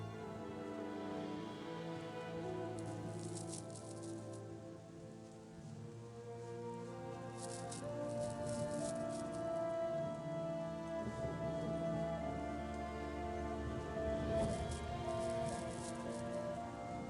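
Rain falls in the video game Chronicles of Myrtana: Archolos, a soft, steady patter under a layer of game music and ambience that stays constant and fairly quiet throughout.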